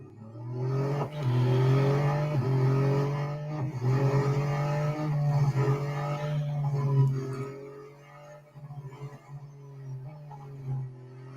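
A race car engine in the Real Racing 3 video game, on an autocross event, drones loudly and steadily for about eight seconds with brief gear-change dips, then fades to a quieter, rougher tail.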